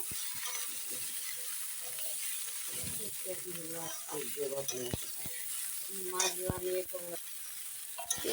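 Mixed vegetables, including eggplant, sweet potato, potato and squash, sizzle in a pan while being stirred, with clattering spoon scrapes over a softer frying hiss and some faint background voice.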